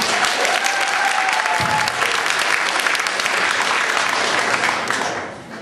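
A comedy show audience bursts into sustained applause, dense and loud throughout, fading slightly at the end.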